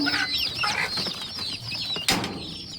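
Hens and their chicks cluck and cheep in a coop, a busy, close chorus of calls with a brief burst of wing flapping near the end and no talking.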